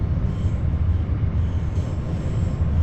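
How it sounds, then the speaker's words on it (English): RABe 523 tilting passenger train braking in Train Sim World 2, a steady low rumble of wheels and running gear with a faint high squeal, continuous and close. "Oh, need to start braking,"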